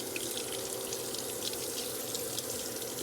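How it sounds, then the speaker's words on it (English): Tap water runs steadily at a sink while scallions are rinsed, a continuous close hiss and splash with no talking. "So you wash your scallions."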